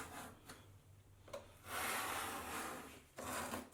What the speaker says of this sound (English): Here I'm using a grout rake in the same way you would to re-grout your tiles.